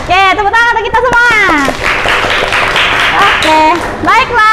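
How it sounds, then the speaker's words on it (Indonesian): A classroom group claps together in a loud burst of a couple of seconds, with voices talking just before and after the clapping. "tepuk tangan untuk kita semua"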